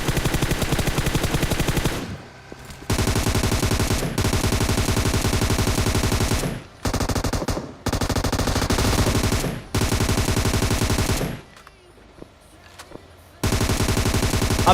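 Rapid bursts of automatic gunfire in PUBG Mobile as two enemies are finished off, loud and close, rattling in long sustained strings broken by a few short pauses.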